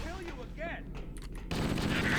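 The Halo 1 assault rifle fires in a video game, with a rapid automatic burst in the last second, heard alongside voices talking over game sounds.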